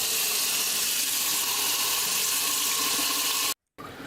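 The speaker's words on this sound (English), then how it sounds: "put some water in them and then pour the water out" Tap water runs steadily into empty cans, a dense continuous hiss and splash at close range that cuts out abruptly near the end before briefly resuming.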